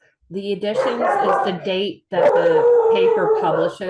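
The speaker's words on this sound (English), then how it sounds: "I'm sorry about my dogs." Pet dogs barking and yipping in the room during a newspaper launch meeting, repeated bursts mixed under a person's steady talking.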